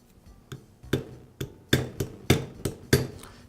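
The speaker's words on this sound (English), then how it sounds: "I'll place the bearing onto the shaft and use a socket to tap it into place." A socket taps a bearing down onto the armature shaft of a DeWALT grinder: about nine sharp metallic knocks in a steady rhythm, close and clear, growing slightly heavier partway through.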